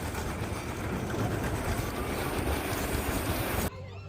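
Joker's Jinx roller coaster at Six Flags America roars past as a broad, loud rushing rumble of wheels on track for several seconds, then cuts off abruptly to quieter ambience.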